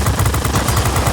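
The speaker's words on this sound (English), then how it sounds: "the Tier 8 machine guns that are on the F-82, although the F-82 has less of them, they have a longer range" Machine guns on a Tier 8 F-82 warplane in World of Warplanes fire a loud, continuous rapid burst of rattling shots with no pauses, heard without any voices.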